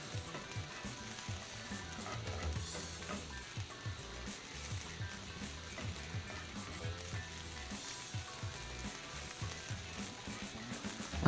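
Cauliflower fried rice with chicken and mushrooms is stirred in a hot pan, giving a steady, even sizzle flecked with light scraping and clicking throughout, with no talking.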